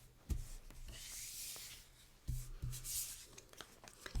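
A die-cut paper piece being trimmed for a card project: soft scraping and rubbing cuts at close range, with a few sharper snips and a steady low hum underneath.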